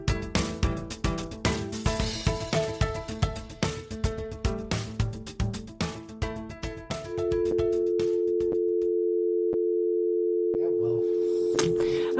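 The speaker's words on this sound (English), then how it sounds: "In the beginning, there was a dial tone. And lo did the modem screech like a demon clawing its way out of digital hell." A telephone dial tone sounds as a steady, unbroken hum for several seconds, following a stretch of rhythmic, punchy sound.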